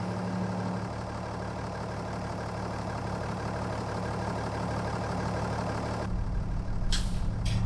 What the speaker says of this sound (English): I love the sound of this truck. The tractor.